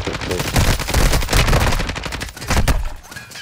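Rapid rifle gunfire in a video game, dense bursts of sharp cracks in quick succession, loud and close, easing briefly before another heavy volley near the end.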